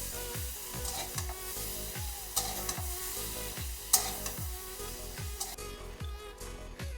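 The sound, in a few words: bitter gourd frying in a pan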